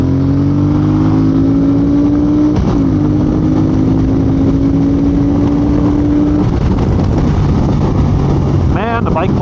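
A motorcycle fitted with an Ohlins shock accelerates along a highway, its loud steady engine note climbing and holding up close, with a short burst of voice near the end.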